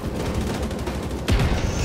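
Rapid video game gunfire from The Secret World's Operation Iron Horse raid: a dense, loud fusillade of bursts, with a heavier burst of shots near the end.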